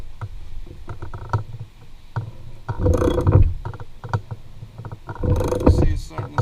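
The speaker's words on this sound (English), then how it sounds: "Basically, you get yourself a big old ratchet. You start cranking away." A big ratchet cranks a ball joint press on a car's suspension, giving bursts of close mechanical clicking and grinding strain that swell and pause between strokes.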